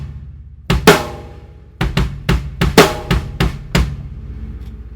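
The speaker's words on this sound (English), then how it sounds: "The kick pattern, I like to think of it as two halves." A drum-kit kick pattern played slowed down: about nine deep, punchy thumps in an uneven grouping, some hits louder, with short ringing decays and nothing else heard.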